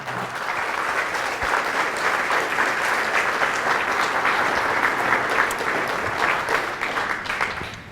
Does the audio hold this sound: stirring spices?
no